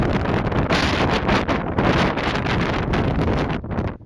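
Strong wind buffets the microphone continuously on a mountain ledge during a ski trip above lakes, a loud, roaring, gusty rush that fills the whole stretch without any speech.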